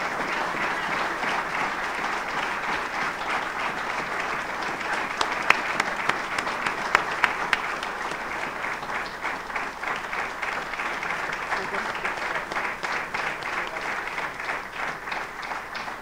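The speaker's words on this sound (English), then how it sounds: "please give her a round of applause" Audience at a University of Hartford athletics press conference applauds Pat, a loud, continuous round of clapping that holds steady for about sixteen seconds with a few sharper claps standing out midway.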